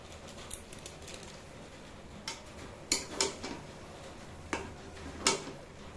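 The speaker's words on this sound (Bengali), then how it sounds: "ভালো করে মিশিয়ে নিয়ে আর একটু ভেজে নেব" Maggi noodles with masala being stirred and fried in a pan, with sporadic sharp spatula clicks and scrapes over a faint, steady sizzle.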